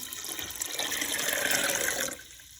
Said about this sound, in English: So we'll add a little more water so it covers it completely.